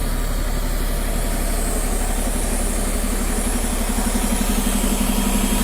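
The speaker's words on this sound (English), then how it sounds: "You can hear the throb of the diesel engine, I'm sure." A diesel bus engine idles steadily at the Ark Encounter, a low rhythmic throb with a constant mechanical hum and no voices.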